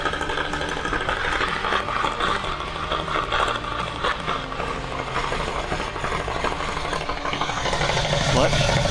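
Steady mechanical whirring and rattling from the transmission of a Jeep Patriot with the engine running and clutch engaged, picked up close by a microphone under the car, continuous and fairly loud with a low engine hum.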